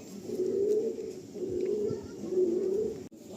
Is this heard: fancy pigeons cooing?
yes